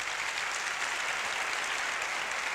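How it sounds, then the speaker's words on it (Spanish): Audience applause in a lecture hall, a steady, dense wash of many hands clapping at once, sustained at an even level throughout without a break. "Os voy a pedir otro aplauso."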